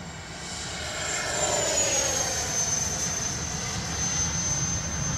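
A twin 64mm EDF Su-27 fighter-style RC jet flies overhead with a steady, rising and falling ducted-fan whine and a gliding high tone, growing louder then holding, with no talk.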